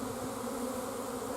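Honey bees buzzing around an opened hive during a nuc installation, a steady, close, continuous hum that holds at an even level with no voices.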